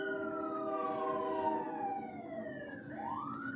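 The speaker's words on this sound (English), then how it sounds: "Bro, that also need to turn on the sirens." Police car siren in a video game, a steady wailing tone sweeping slowly downward, then rising again near the end, loud and alone without talk.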